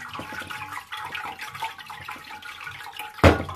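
Hibiscus sobolo drink poured through a strainer, a close, steady liquid splashing and trickling for a few seconds before a sharp louder splash near the end.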